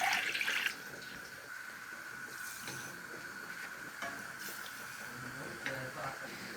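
Two cups of water and two cups of sugar are poured into a pot to make syrup for qatayef, a steady close wash of liquid sound with a faint clink and talking over it.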